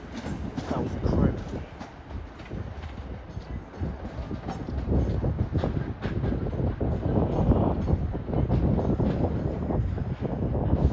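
A pair of British Rail Class 185 diesel units arrives at Manchester Piccadilly, a low rumbling roll with rail clatter and wind buffeting the microphone, growing slightly louder as it nears, while a person talks faintly.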